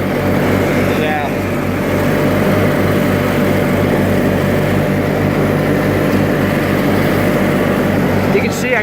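A 1986 John Deere 318 lawn tractor mows with a steady, loud engine drone and deck whir that runs unbroken from start to finish, close to the listener.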